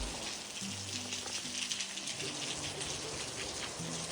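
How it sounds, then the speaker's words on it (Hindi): Steady rain pours down through a morning in Nagaland, a dense, even hiss of drops on surfaces close by, with a low hum underneath and no voices. "सुबह से ही ना इसी तरीके से बारिश हो रही है। बारिश रुक नहीं रही है।"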